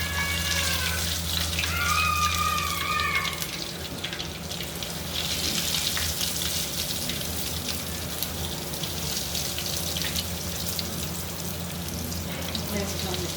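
Egg bonda fry in hot oil, a continuous bright sizzling and bubbling with a steady low hum beneath, loud and close throughout.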